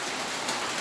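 Rain falling steadily in a tropical setting near fish tanks, a dense even hiss of drops filling the short stretch, close and loud with no voices or pauses.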